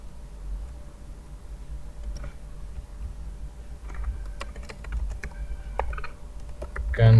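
Typing code on a computer keyboard while building a custom alert dialog and progress dialog: sparse, irregular key clicks, quiet against a steady low background hum, with a louder knock right at the end.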